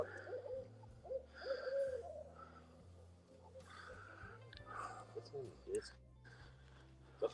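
An owl hoots at night in repeated low calls, fairly close, while people talk quietly over it in the dark.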